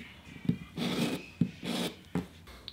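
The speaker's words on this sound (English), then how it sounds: "I'm just rounding off the ends of the screws to make them smoother. I'm just using a 400 grit emery on a cork block." Hand-sanding the ends of small steel utility screws with 400 grit emery paper wrapped on a cork block at a watchmaking bench: three short back-and-forth rasping strokes, each beginning with a small knock, close and moderately quiet.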